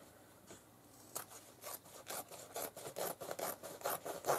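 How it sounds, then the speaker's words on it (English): Scissors cut along the thick seam of a fabric pant leg, a steady series of rough, rasping snips that grows more regular and slightly louder, close up with no talk. "I think I'm going to just cut it off."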